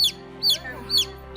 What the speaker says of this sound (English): A young chicken within 8 weeks of age. Chick chirping.